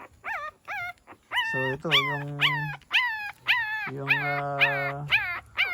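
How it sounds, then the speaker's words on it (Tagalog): Puppies whimper and yip in a rapid series of high, rising cries, some drawn out into longer whines, close by with brief speech among them. "ang dami na ng aso, 4 na yan"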